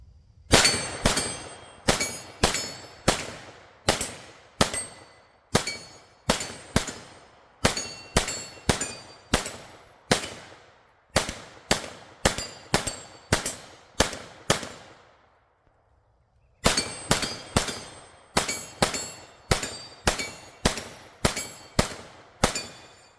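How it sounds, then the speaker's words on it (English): UTG magazines are struck repeatedly up into a Glock pistol to seat and lock them, producing a long run of sharp, loud metallic clacks in rapid rhythmic clusters, with one brief pause before the strikes resume. "So you've got to hit them from bottom and to really get them locked in there."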